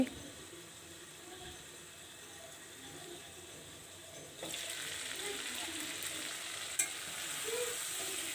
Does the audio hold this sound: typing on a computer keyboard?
no